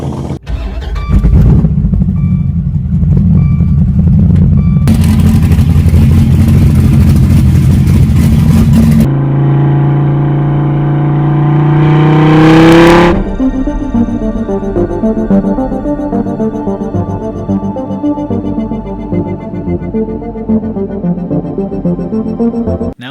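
An American muscle car engine rumbles and revs loudly up close, with a rising throttle sweep midway and choppy, edited bursts of mechanical roar before a sustained, growling run.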